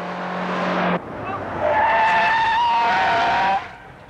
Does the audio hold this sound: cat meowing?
no